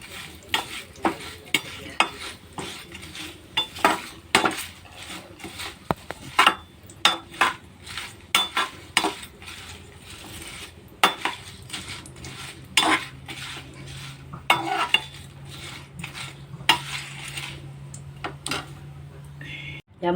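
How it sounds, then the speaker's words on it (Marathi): Bay leaves are dry-roasted in a pan for garam masala, with a utensil scraping and clinking against the metal in quick, irregular strokes, close and fairly loud, while a faint low hum runs underneath. "त्यामध्ये आता आपण तेजपत्ता घातलेला आहे,"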